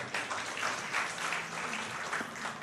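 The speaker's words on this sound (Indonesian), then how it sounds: "Tepuk tangan buat Tuhan." Brief burst of congregation applause during a church service, a moderate, continuous patter of many hands clapping in the room for a few seconds.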